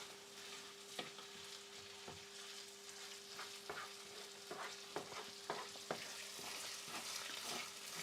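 Vegetables fry in a pan with a soft, continuous sizzle, broken by scattered clinks and scrapes of stirring that grow more frequent toward the end.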